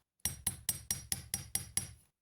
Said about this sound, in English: give it a tap in the appropriate spot to just keep the centre of that brooch nice and circular